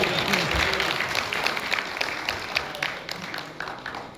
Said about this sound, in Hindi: अगर समझे नहीं हो आप भी ताली बजा दीजिए